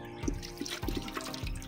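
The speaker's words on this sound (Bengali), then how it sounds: "ধুয়ে নিয়ে দি জলের মধ্যে, আবার মাংসগুলো ধুয়ে নিলে চকচক করে যাবে" Raw chicken pieces being rinsed by hand in a bowl of water, with soft sloshing and dripping splashes recurring every half second or so, close and fairly quiet.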